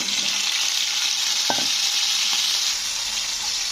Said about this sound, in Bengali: প্রথমে আমি ডাঁটাগুলো তেলের মধ্যে দিয়ে একটু হালকা ভেজে নেব